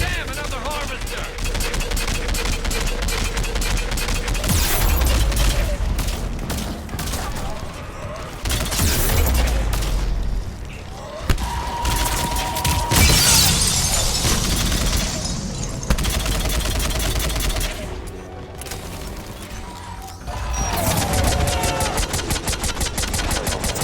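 Rapid bursts of automatic gunfire and heavy firefights from a sci-fi shooter game with Harvester enemies, loud and nearly continuous with dense volleys, booming impacts and brief lulls, layered over game music and effects.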